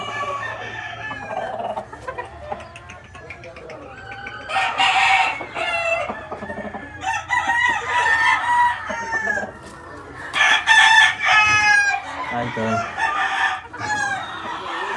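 Copetona hens and a caguan rooster, with caguan hens and a copetón rooster, crow and cluck loudly and close by, overlapping crows rising in bursts over steady background clucking.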